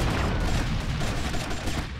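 Gunfire in GTA Vice City blasts at a helicopter, a dense, loud burst of rapid shots and booms that keeps going without a break through the short stretch.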